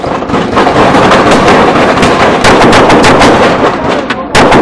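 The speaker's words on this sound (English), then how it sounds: "an officer-involved shooting occurs" A rapid volley of gunshots rings out during a police officer-involved shooting, loud and sustained, with many overlapping cracks and a final shot at the end.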